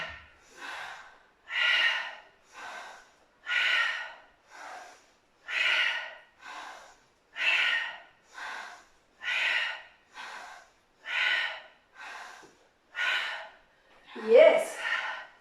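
Heavy rhythmic breathing during a beginner no-equipment HIIT session done as a pair at home, with about fifteen strong, even inhale and exhale puffs repeating steadily at close range, ending in a sharper gasp.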